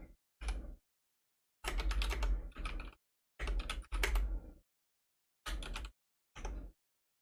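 Bursts of typing on a computer keyboard, a few short clusters of clacking keystrokes separated by pauses, close and fairly loud with no talking.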